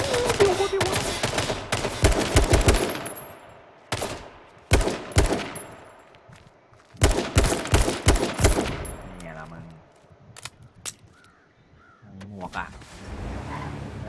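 Gunshots in the battle royale video game H1Z1 ring out in sharp, loud bursts: a rapid cluster, then scattered single shots with quiet gaps between them, plus a few softer game noises near the end.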